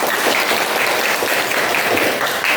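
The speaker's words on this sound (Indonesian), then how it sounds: "tepuk tangan dulu untuk Anabel." Dense, steady applause from a class of students in an Indonesian junior high school classroom, loud and continuous throughout with no talk over it.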